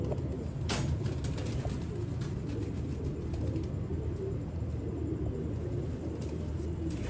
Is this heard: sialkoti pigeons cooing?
yes